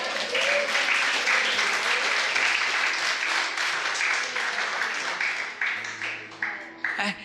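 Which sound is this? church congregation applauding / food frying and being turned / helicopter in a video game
church congregation applauding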